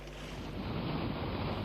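Rough sea waves crash and roar continuously along the Bay of Bengal coast during heavy rains, loud and close, with strong wind buffeting the microphone.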